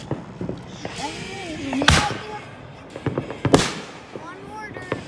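Fourth of July fireworks mortars bursting outdoors at night: two loud, sharp booms about a second and a half apart, with smaller crackling pops scattered between them and people talking and exclaiming throughout.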